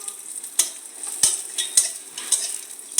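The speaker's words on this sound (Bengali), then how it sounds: "এর সঙ্গে আমি কিশমিশগুলো একটু অল্প অল্প ভেজে নেব" Cashews and raisins fry in a pan with a steady close sizzle, broken by several sharp clinks and scrapes of a spoon stirring against the metal.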